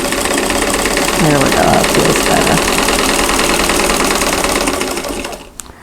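A sewing machine runs steadily and loudly, stitching quilt block pieces together in one continuous whirring burst that slows and stops near the end, with a brief spoken remark over it.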